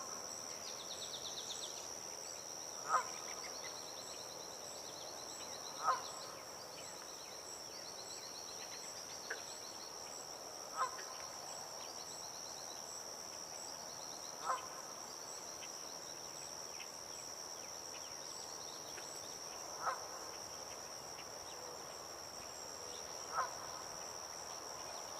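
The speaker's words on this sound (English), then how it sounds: "I'm guessing that sound we're hearing is from a red-winged blackbird." Red-winged blackbird calls come as short, distant calls repeating every few seconds over a steady outdoor drone of insects and crickets.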